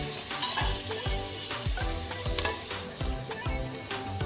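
Chopped onion fries in hot oil until golden, a loud continuous sizzle with repeated scraping stirs of a spatula in the pan, close up and with no talking.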